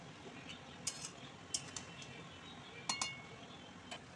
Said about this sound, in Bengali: ভাজা আলু আর চিকেন দুটোই ভালো করে কিছুক্ষণ নাড়তে হবে